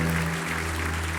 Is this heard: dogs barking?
no